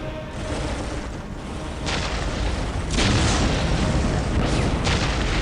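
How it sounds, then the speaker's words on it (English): Ork artillery fire in Dawn of War, heard as repeated heavy booms and blasts roughly every second, swelling louder toward the end over a continuous rumbling battle din. "We will silence that Ork artillery."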